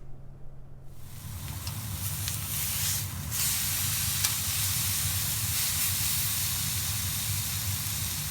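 Beef tenderloin sears on a hot griddle, a steady, close sizzle and hiss that starts abruptly and holds evenly, with no talking over it.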